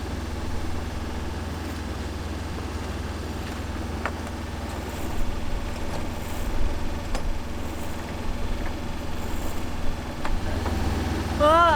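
A sailboat's auxiliary engine runs steadily on a windless river inlet, a constant low drone and hum throughout with faint background sounds over it.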